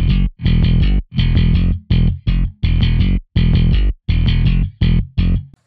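A heavy, distorted synth bass layered with a second bass plays in short chopped bursts with brief gaps, thick and gritty with buzzing upper harmonics, loud and upfront.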